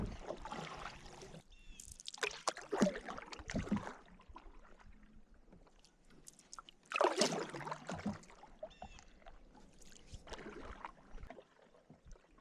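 A canoe paddled across a foggy lake in Algonquin Park in fall, with soft, intermittent paddle strokes and water trickling off the blade at close range in a quiet setting.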